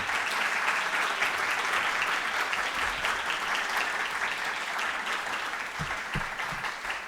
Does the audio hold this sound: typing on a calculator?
no